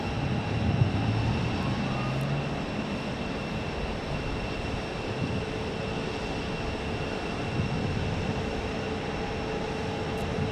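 A Delta charter jet landing on the south side of Phoenix airport, heard as a distant, steady broadband roar with faint whine lines, continuous and even in level, with no voices.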